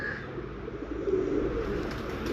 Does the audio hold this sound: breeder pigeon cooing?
yes